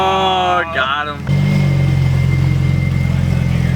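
A car engine idles after a supercharger install on a rainy day, a steady low rumble that starts after a moment of voices and then runs on evenly, close and loud.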